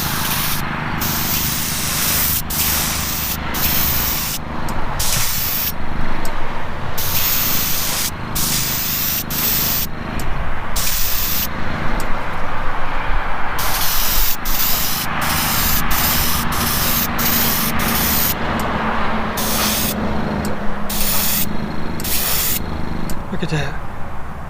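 A spray gun lays a second coat of paint on the body of a custom 1955 Chevy gasser in repeated loud hissing bursts broken by short pauses, close by and without talk.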